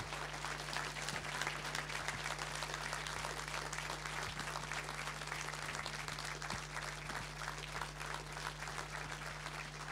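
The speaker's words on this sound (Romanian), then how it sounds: "vă rog să primim cu un ropo de aplauze European Royal Orchestra" A concert hall audience at a Christmas concert in Bistrița applauds to welcome the European Royal Orchestra. The sustained, dense applause sounds somewhat distant beneath a steady low electrical hum, with no one speaking.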